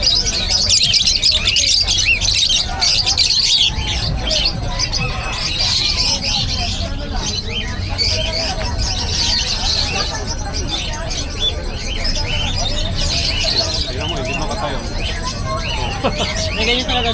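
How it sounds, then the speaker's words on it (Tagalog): African lovebirds chirp and tweet continuously at a busy outdoor pet market, their high calls layered over a dense crowd murmur while people talk nearby. "Lovebirds. African lovebirds."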